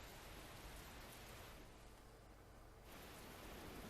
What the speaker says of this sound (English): Gotta set the mood with the rain